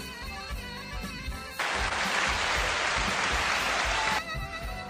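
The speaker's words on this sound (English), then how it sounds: "There's a round of applause for Allison Hayes." A burst of applause lasting about two and a half seconds, dense and steady, sandwiched between quieter stretches of background music.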